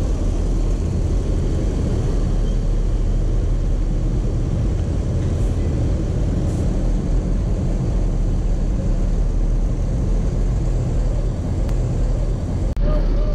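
A PO Haryanto bus, number 070, reverses into a bus garage, its engine a steady low rumble heard up close throughout, with no clear talk over it.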